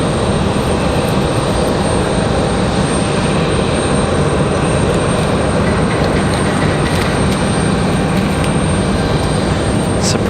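An ATR 42 turboprop from Wilmington at Raleigh Durham International: a loud, continuous broadband engine roar sustained for about ten seconds with no voices over it.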